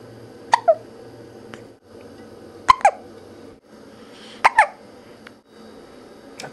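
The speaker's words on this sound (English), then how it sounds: "she has the hiccups" A small child hiccups three times, each a sharp double catch of breath, spaced about two seconds apart over a low, quiet background hum.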